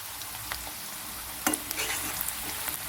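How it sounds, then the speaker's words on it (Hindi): Onions sizzle and fry in a hot pan, with a steady crackle and a brief scrape of stirring near the middle. "प्याज को हमने ज़्यादा ब्राउन नहीं करना, बस थोड़ा सा सौटे कर लेना है हमने।"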